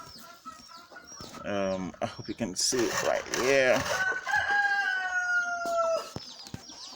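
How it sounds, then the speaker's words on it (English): A brooding hen among local birds being raised, giving a few close, throaty clucks and drawn-out calls mixed with other fowl nearby, while a person talks over them. "Let me show you the first hen that's brooding."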